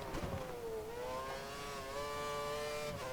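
Formula 1 car engine in the racing game F1 2013 at Estoril, a high sustained whine held under throttle with the pitch dipping and climbing through gear changes, loud and continuous.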